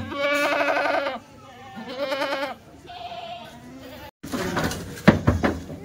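Several loud Kathiawari goat bleats, wavering and close, come in a series, followed by a person speaking briefly at the end.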